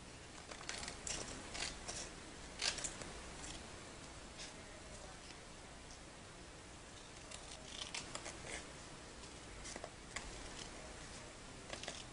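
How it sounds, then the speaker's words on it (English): Scissors snip around a pink-covered paper card piece in a quiet room, with a steady run of small crisp cuts and rustles, close and faint, no one speaking. "I'm going to just cut around it"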